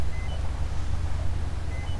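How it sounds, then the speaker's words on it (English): A train passing in the background during a horror game session, heard as a steady, low rumbling roar that holds for the whole stretch without clear peaks. "Actually, that's a train"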